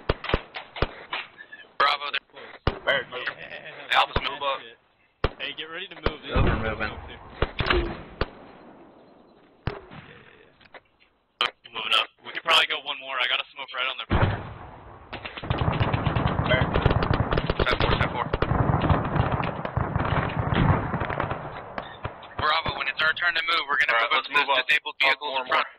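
Gunfire during a military training exercise in infantry basic training, with repeated bursts of rapid automatic shots and scattered single cracks, loud and close, interleaved with shouted radio-style commands and talk.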